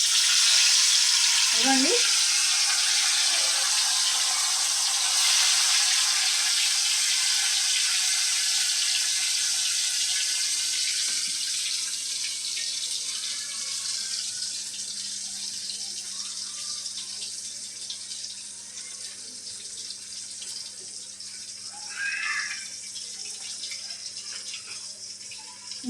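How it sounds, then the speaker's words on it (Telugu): Fish pieces fry in hot oil with a loud, continuous hiss that eases slightly over time, with brief stirring and a short spoken word near the start. "ఆయిల్ అయితే వేడెక్కిందండి. ఇప్పుడు మన ముక్కలు అయితే వేద్దాము."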